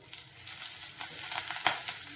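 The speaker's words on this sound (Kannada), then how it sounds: "ಒಂದೆರಡು ಸ್ಪೂನ್ ಎಣ್ಣೆ ಹಾಕ್ಯಂತದನಿ ಕಾಲು ಸ್ಪೂನ್ ಜೀರಿಗೆ ಒಂದು ಮೂರು ಹಸಿಮೆಣ್ಸಿಕಾಯಿ" Cumin seeds and green chilies hit hot oil in a pan, giving a brief, fairly quiet crackling sizzle with a few sharp pops near the end, and no voices.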